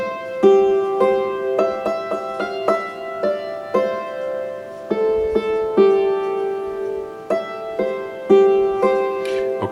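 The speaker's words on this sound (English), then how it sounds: "The melody to I'll Fly Away sounds like this." A hammered dulcimer plays the simple melody of I'll Fly Away alone: bright struck strings ring out in a steady, unhurried rhythm, each note sustaining and overlapping the next.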